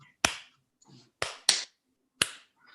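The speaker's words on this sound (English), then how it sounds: "Slow clap." A single person does a slow clap: four sharp, close hand claps spaced unevenly about half a second to a second apart, each ringing briefly into near silence.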